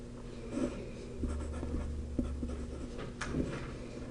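Pencil or pen scratching on paper while sketching a triangle by hand, quiet close strokes in short irregular bursts over a faint low hum.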